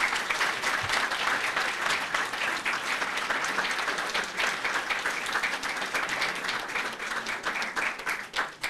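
Audience applause at a book presentation, dense steady clapping from many hands close by, sustained for several seconds before thinning at the end.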